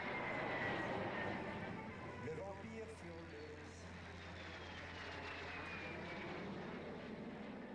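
A de Havilland Vampire jet aircraft roars past at a distance at the La Ferté-Alais airshow, a broad rushing drone with a thin whine sliding downward as it passes.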